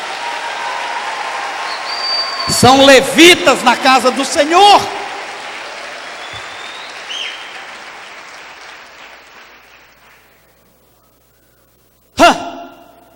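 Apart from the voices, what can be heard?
congregation applause for the church workers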